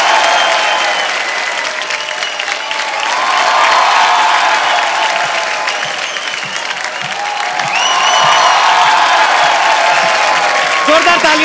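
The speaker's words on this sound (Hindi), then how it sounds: "जोरदार तालियां टीना के लिए" A television comedy talk show's studio audience bursts into loud, sustained applause and cheering to welcome a guest, a steady wash of clapping that swells again midway, with a host's voice talking over it.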